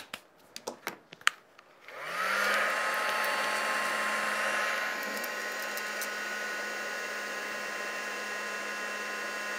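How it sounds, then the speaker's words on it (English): A heat tool blows steadily over embossing powder on a die-cut lace panel, switching on after a few light taps and holding a constant whooshing hum close up. "So you can just go around and heat that and it melts"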